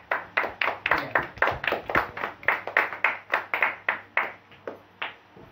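Audience clapping at a prize-giving show: a close run of crisp, evenly paced claps, about three to four per second, slowing slightly at the end, with no voices.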